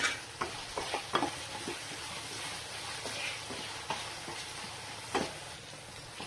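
Tomatoes with a little salt sautéing in a pan for prawn gravy, a low steady sizzle under several spatula knocks and scrapes, close and fairly quiet with no talk.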